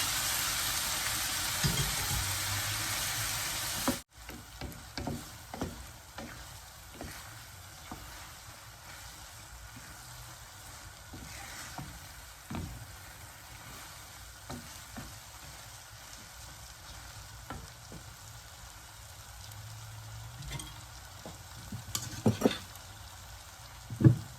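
Shrimp pad thai noodles stir-fried in a pan, a steady close sizzle with repeated scraping and clinking spatula strokes throughout, continuous and busy with no voices.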